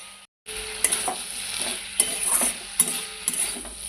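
Fried shrimp and taro stolons are stirred in a sizzling pan, with a steady frying hiss and repeated scraping clinks of the spatula against the metal every second or so.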